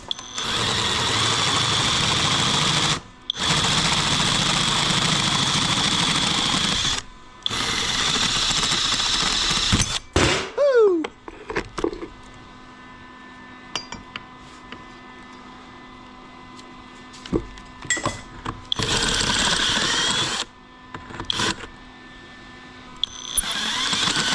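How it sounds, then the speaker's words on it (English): A power drill with a step bit whines in long loud bursts with brief pauses, drilling out metal for a mini bike exhaust, then goes quieter with scattered clicks and short revving spurts near the end. "we're gonna drill this out a couple notches"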